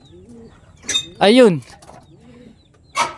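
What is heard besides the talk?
young racing pigeons cooing in the loft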